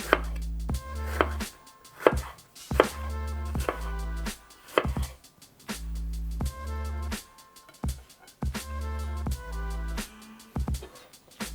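A knife chops a red bell pepper into strips steadily on a cutting board in quick rhythmic strokes, with music playing underneath.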